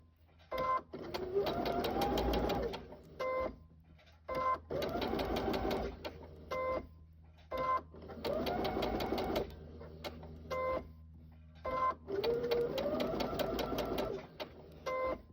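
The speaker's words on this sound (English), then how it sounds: "Just using a 2 in my stitch length, just straight stitch, following around the line I marked on the interfacing" A domestic sewing machine straight stitching around an appliqué shape on interfacing, four close bursts of rapid whirring stitches with a rising hum, separated by brief pauses and light clicks as the fabric is turned.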